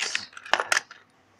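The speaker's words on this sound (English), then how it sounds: "I've got a few 1 cents in here. We can put them in." A few one-cent coins drop into a small container. Several sharp metallic clinks land in quick succession, close up and clear, then fade into quiet.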